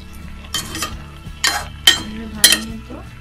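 A utensil scrapes and clinks against a cooking pot as pui shak greens are stirred and lifted, four distinct scraping strokes at an uneven rhythm, close and clear with a faint low hum under them.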